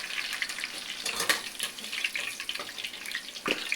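Potato and eggplant pieces frying in hot oil, giving a steady soft crackle and hiss close by, with a few louder pops near the middle and the end and no voices.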